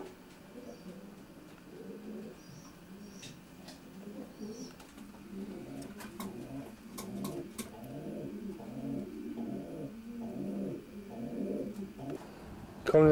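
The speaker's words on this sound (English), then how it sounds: "these pigeons are now paired up." Racing pigeons coo in nest boxes inside a loft, soft repeated low burbling calls overlapping in a steady rhythm, fairly close and quiet against a faint background.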